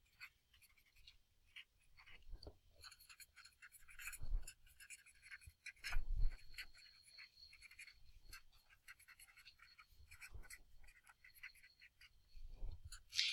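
Pen scratching out math on paper, intermittent short strokes and taps spread over several seconds, faint and close with quiet gaps.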